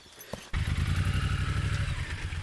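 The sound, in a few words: motorcycle engine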